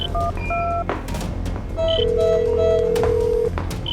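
A phone being dialed to place a call gives a series of short electronic tones and beeps, then a steady sustained ring tone, close and clear.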